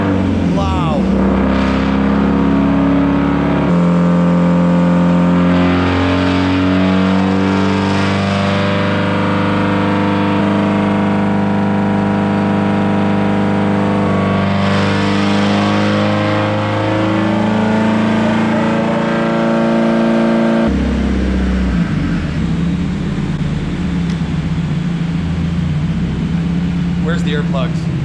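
A loud turbocharged Subaru STI engine roars and revs continuously on a dyno, heard from outside the car, its pitch climbing under load before dropping off abruptly, harsh and close.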